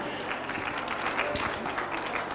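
An audience at a spelling contest claps in a brief burst of steady, moderately loud applause, with a voice speaking faintly underneath.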